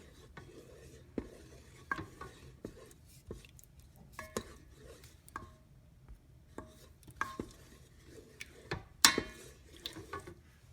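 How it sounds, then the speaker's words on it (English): A spoon stirs thickening country gravy inside a rice cooker, making sparse soft scrapes and clinks against the pot that come at irregular intervals in a quiet room, with one sharper knock near the end. "So we just keep stirring, keep looking at it"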